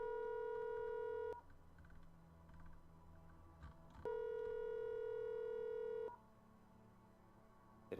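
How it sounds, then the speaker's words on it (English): A telephone ringback tone heard after dialing: a steady, buzzy two-note hum sounds for about two seconds, goes quiet for about four, then returns for another two-second burst, clean and alone. "That is the ringback tone."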